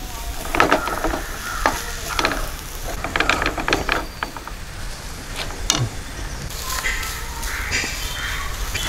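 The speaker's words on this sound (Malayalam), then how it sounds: "ഇതിലേക്ക് നേരത്തെ വേവിച്ച് വെച്ച ചിക്കൻ കൊടുക്കാം. എല്ലാം കൂടെ ഒന്ന് മിക്സ് ചെയ്തെടുക്കാം." Cooked chicken stirred into macaroni in a pan, with repeated scraping and clicking strokes over a light, steady sizzle, close and moderately loud, with no voices.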